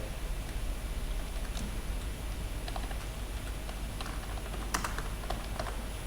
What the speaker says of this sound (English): Here I am typing